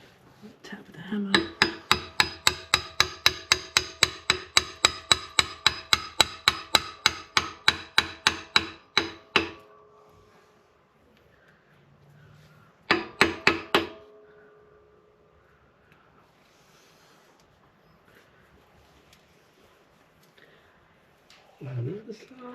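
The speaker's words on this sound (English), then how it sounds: "tap with the hammer." Rapid, evenly spaced hammer taps on metal, a long run of dozens of strikes, then a pause and a short second burst; close and sharp, with faint background noise.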